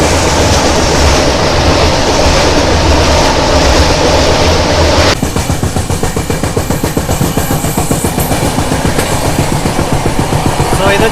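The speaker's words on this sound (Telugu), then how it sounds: "సో ఇది వచ్చేసి Kerala super fast express train" The Kerala Superfast Express passes close and loud, a steady roar giving way to rapid, rhythmic clatter of wheels over rail joints as the coaches rush by.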